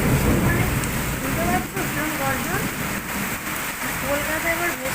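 Heavy morning rain falls in a steady, dense roar, driven by wind, with faint voices heard now and then.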